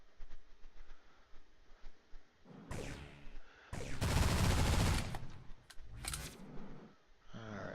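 Gunfire shooting at a rock in the space video game Destination Sol: quiet, scattered bursts of synthetic shots build to one dense rattling volley, then trail off into a few more sporadic bursts.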